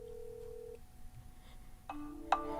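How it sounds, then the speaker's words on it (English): Huawei Mate XT tri-fold phone on a test call giving ringback tones, a long steady tone that stops and then another beeping tone, fairly faint with no talk. "The phone is ringing."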